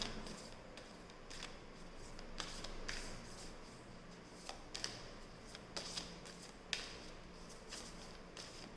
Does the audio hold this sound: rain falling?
no